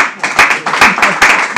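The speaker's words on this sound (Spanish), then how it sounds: "Aplaudir." An audience claps and applauds at a workshop, a burst of dense, uneven handclaps rising and falling in loudness over a couple of seconds, close and fairly loud.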